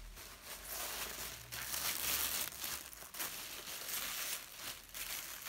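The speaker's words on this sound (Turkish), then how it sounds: "Sürpriz poşeti. Hadi aç bakalım içinden ne çıkacak Cansın." A plastic surprise bag rustles and crinkles as it is opened, with repeated bursts of crackling close by and no talking.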